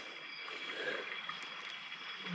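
Faint, steady flowing water, a soft continuous trickling and rushing hiss with no distinct splashes.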